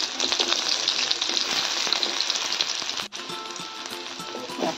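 Chopped onion fried in hot oil with garlic crackles with a bright, close sizzle that holds steady, dips for a brief moment and then picks straight back up.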